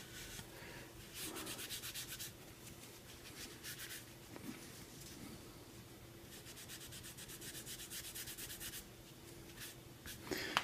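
Steady rubbing and wiping of a napkin on a plastic retro computer case, coming in repeated strokes of scratchy friction, close by with no talking.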